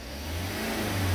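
A Hyundai Starex engine, just after a top overhaul, revs up steadily with a low, rising drone that swells in loudness over a short burst, with no voices.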